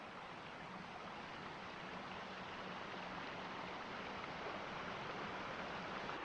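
Faint, steady wash of Basin Creek flowing over rocks at a stream crossing, heard from a short distance with an even hiss and no talk.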